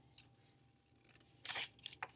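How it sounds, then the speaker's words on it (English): Scissors cutting paper, snipping near the hinge of the blades during a paper craft project; a few quiet, crisp snips, one stronger cut followed by two lighter ones, close and alone without talk. "I'm cutting with the hinge of my scissors, not with the tip of my scissors"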